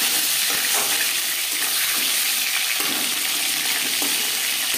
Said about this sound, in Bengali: এবার দিয়ে দেবো ম্যারিনেট করে রাখা মাছ